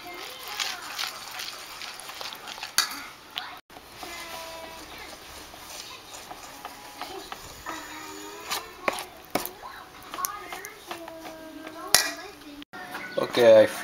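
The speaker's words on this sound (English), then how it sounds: "now I'm gonna add the baking powder, the all-purpose flour, and the cinnamon, and mix it up" Flour, baking powder and cinnamon being worked into oatmeal cookie dough in a bowl, with intermittent clinks and knocks of utensils against the dish and a soft scraping between them, near and moderately quiet.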